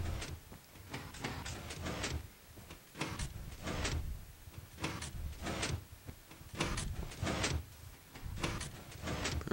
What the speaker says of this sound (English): Alright, and our door should open.